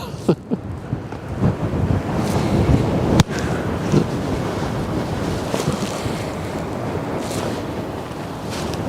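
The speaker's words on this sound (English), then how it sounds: "the wind keeps turning my camera" Steady wind rushing and buffeting a microphone at the Westerschelde waterfront in the Netherlands, with surf-like broadband noise throughout and a sharp knock partway through, no talking.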